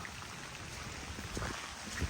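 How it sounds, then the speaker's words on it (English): Rain falling outside on a parked Jeep XJ under a collapsed carport, a steady faint hiss of drops with a few louder taps and spatters near the end. "Poor Jeep sitting out here in the rain now."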